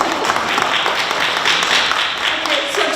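An audience at a mayoral candidates' forum applauds with a dense, continuous burst of clapping that sounds close and fairly loud and lasts the whole moment.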